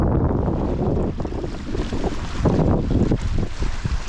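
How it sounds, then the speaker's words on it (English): Small waves from a Finnish lake splash and slap against shoreline rocks on a hot summer day, a close, continuous wash of water mixed with gusty wind buffeting the microphone, with no voices. "I really love the sound of those waves hitting the rocks."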